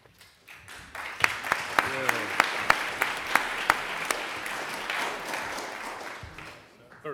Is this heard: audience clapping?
yes